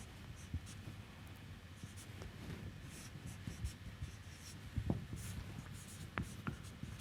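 Soft scratching and tapping of writing out equations during a mathematics lecture on GPS data pre-processing, faint irregular strokes and small knocks close by in a quiet room.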